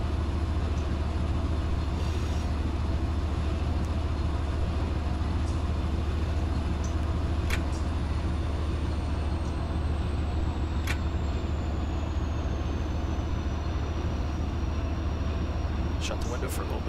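A CSX train rolling in the Run 8 simulator game, a constant loud low rumble of engine and wheels with occasional faint clicks and a fading high whistle tone overhead.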